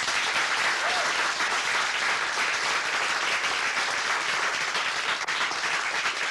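A studio audience on a Belgrade TV show gives sustained, dense applause for an arriving guest, a female TV presenter, loud and even throughout with no pause.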